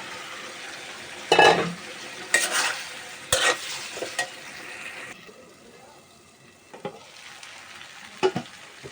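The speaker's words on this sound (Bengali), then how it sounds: "আলুটা ভালোভাবে কষায় নিই টমেটোর সাথে।" Potatoes sautéed with tomatoes in a pan, scattered loud scraping stirs and clattering of a utensil over a faint sizzle, with quieter stretches between bursts, close by and without speech.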